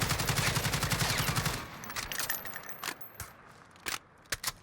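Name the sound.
AUG firing 5.56 bullets in video game Call of Duty Warzone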